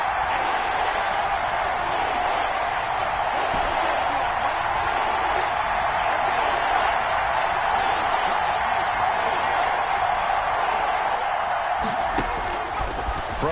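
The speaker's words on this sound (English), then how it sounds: "Crowd getting in it a bit already." A football stadium crowd in a Titans game roars as a steady, dense wash of noise, with a commentator talking over it throughout.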